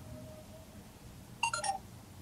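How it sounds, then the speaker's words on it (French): A THL T200 smartphone gives a quick cluster of short electronic beeps, about three tones in close succession, faint and clean over a quiet room hiss. "j'ai entendu un petit bip"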